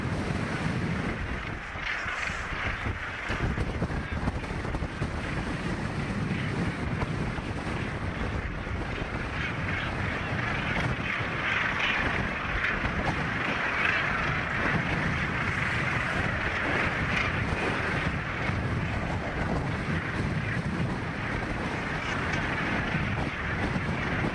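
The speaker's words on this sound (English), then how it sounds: "It is really windy." Strong wind buffets the microphone in a constant loud roar on a sailing trip along Newfoundland's south coast, with waves washing in the background and no clear talk.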